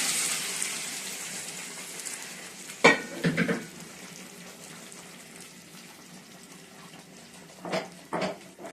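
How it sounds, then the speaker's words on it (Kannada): Tempering sizzles in hot oil in a pan as papaya huli (curry) is added. A steady low sizzle runs throughout, with louder bursts of frying and stirring around the third second and again near the end. "ಕರಂಗಿ ಪುಳಿ ಹಾಕ್ತಾ ಇದ್ದೀನಿ ಒಗ್ಗರಣೆ"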